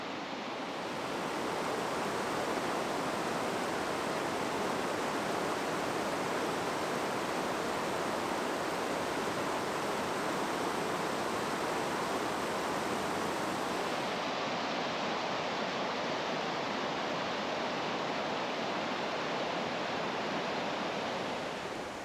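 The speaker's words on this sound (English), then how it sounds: "we get a chance to see the weir up close" Water pours steadily over a weir near old mill buildings, a loud, continuous broadband rush with no change in level throughout.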